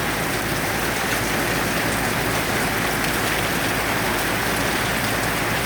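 Heavy, steady storm rain pours down in a dense, continuous hiss, drumming on surfaces close by with no break for the whole stretch.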